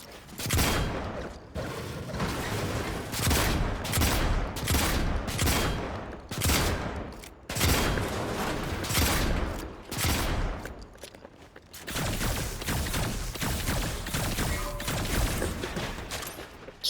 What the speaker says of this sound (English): everybody loves the Spaz. It's the most famous shotgun in the game.